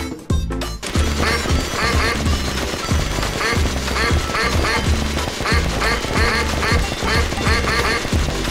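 Cartoonish ducks quack repeatedly in the video game Suicide Guy, loud and busy over a dense backdrop of game music and crashing, gunfire-like effects, with no pauses between calls.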